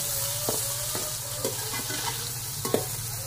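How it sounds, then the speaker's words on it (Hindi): Onions frying in hot ghee, a steady close sizzle with a few light stirring clicks and soft taps, no talking. "तो अब हम प्याज डालते हैं इसमें।"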